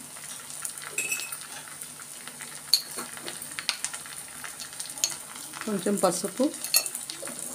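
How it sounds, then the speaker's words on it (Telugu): Veg keema being stirred and fried in a pan with masala, salt, chilli and turmeric, soft sizzling under scattered clinks and scrapes of a metal spoon, with someone speaking briefly. "ఇవన్నీ వేసుకుని బాగా ఫ్రై చేసుకోవాలి."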